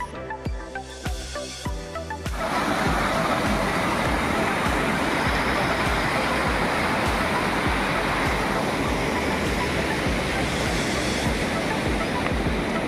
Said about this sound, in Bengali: বাঁশের সাঁকোর নিচ দিয়ে বয়ে চলেছে ছোট্ট একটি পাহাড়ি নদী।